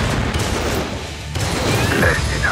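Shotgun blasts in the aerial combat game Strike Vector EX, rough booming bursts with mechanical clatter, loud and close, briefly dipping before rising again.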